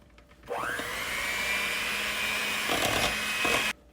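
Electric mixer beating cupcake batter with buttermilk and dry ingredients, a steady whirring motor that starts abruptly, holds for about three seconds with slight pitch shifts, then cuts off.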